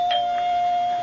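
A doorbell rings once at the front door of a house as a radio drama sound effect, a clear sustained electric chime tone that holds steady for about a second.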